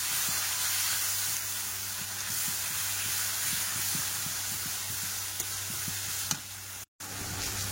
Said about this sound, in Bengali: মশলাটাকে খুব ভালোভাবে কষাবো।